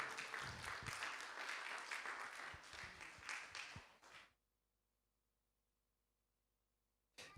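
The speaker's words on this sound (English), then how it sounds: "If you're clapping, do it better, do it better, do it better." An audience at a church business event claps steadily for about four seconds, a loud dense patter that stops abruptly, followed by near silence and a short burst of sound at the very end.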